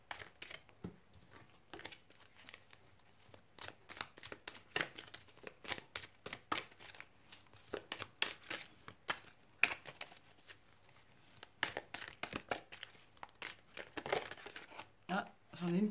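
Tarot cards slapped and flicked down one by one into four piles, a close, rapid run of dry papery snaps and crinkles, with a quiet voice talking intermittently.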